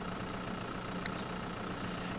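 A big tractor engine idles in Farming Simulator 2013 as a steady, low, even drone with no other sounds over it, and one faint high click in the middle.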